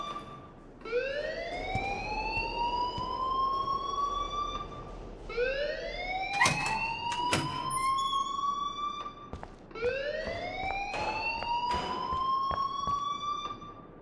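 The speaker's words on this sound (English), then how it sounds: "please turn off that alarm since that's your job" A school alarm in the Life is Strange video game, sounding as three rising, siren-like wails in a repeating cycle, loud and electronic, with a few sharp clicks between the sweeps.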